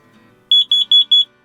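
A detector's self-test inside a winter ice-camping tent, four short, loud, evenly spaced high-pitched beeps in quick succession after a quiet moment.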